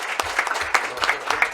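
An audience at a board inauguration ceremony applauds Dr. Juliano with close, uneven clapping and distinct sharp individual claps, quite loud and steady through the short burst.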